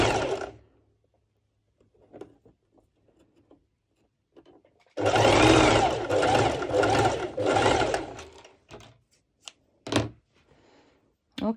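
A sewing machine stitches mesh sandwiched between lining layers of a halter neck top, running in one loud continuous burst of a few seconds, followed by a few short isolated clunks amid near silence.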